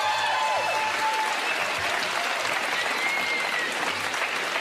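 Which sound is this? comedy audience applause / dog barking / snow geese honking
comedy audience applause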